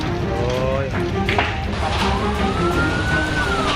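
A fire truck siren wails with rising and falling tones as two fire trucks respond to a house fire in Liwa, West Lampung, under a busy scene with voices and crowd noise.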